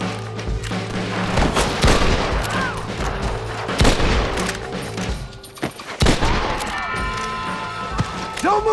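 Gunfire in the Red Dead Redemption video game: a busy firefight of sharp, loud shots and bursts scattered through the whole stretch, with crashes and booms mixed in and voices calling out over the shooting.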